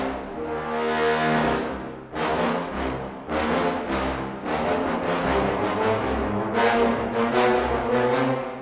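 Heavy brass from the Junkie XL Brass sample library, used in in-game music: massive low sustained blasts that swell and restart in several long chords, loud and alone with no talking.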